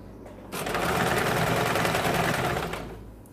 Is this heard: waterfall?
no